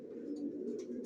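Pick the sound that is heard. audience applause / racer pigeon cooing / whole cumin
racer pigeon cooing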